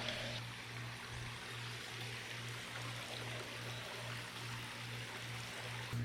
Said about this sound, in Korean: 여기 너무 기분 좋은 어, 계곡 소리가 들려요.